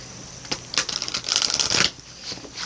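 Oracle cards riffle and flick in quick bursts, a crisp fluttering shuffle that swells in the middle, close and fairly loud.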